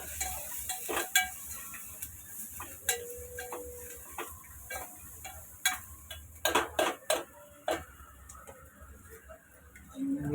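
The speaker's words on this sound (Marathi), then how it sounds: "हे सगळं मी त्यात परतून घेते" Ingredients being sautéed in a pan with a spatula, giving irregular scraping clicks and metallic taps over a faint low hiss, with a few sharper knocks and a short tone partway through.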